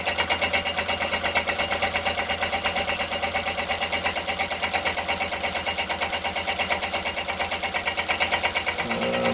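A homemade Stirling engine runs steadily at about 522 RPM, slightly out of balance, giving a continuous close mechanical whir with a fast even pulsing that holds level throughout and changes tone briefly at the very end.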